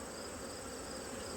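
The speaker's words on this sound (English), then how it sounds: "There are a lot of bees and brood in this particular hive" Honeybees hum densely in an open hive full of brood and pollen, a steady close buzz with no breaks and no talking.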